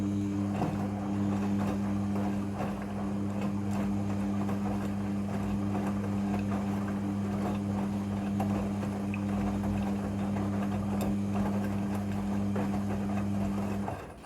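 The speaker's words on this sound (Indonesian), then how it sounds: "Kemudian ini adalah proses pemerasan cucian yang kedua." A Midea front-loading washing machine on its second spin cycle while washing pants, giving a steady, loud drum hum with a strong low tone that holds without a break throughout.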